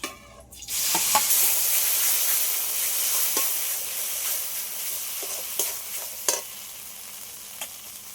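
Yardlong bean paste hits a hot pan and fries with a steady sizzle and hiss, while a spatula stirs and scrapes with occasional sharp clicks against the pan.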